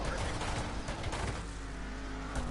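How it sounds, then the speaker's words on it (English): A V8 Hotstox race car in a BriSCA oval racing game sits stationary, its engine revving in rough bursts amid a busy, noisy mix of other cars and game sound, fairly faint overall. "You can hear his car revving"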